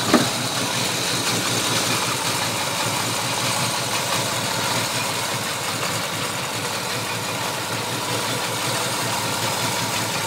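A 1985 Chevrolet El Camino V8 idles steadily up close, a continuous loud rumble with an even low pulsing rhythm and no talk over it.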